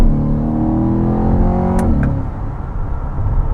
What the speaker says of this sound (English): this car, it has so much power off the line and in first gear,